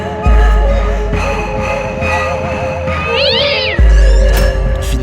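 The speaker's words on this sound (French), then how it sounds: "Il miaula furieusement." A cat meows loudly in a rising, wavering cry over a dense musical background with a sustained low tone, followed by a sharp higher yowl near the end.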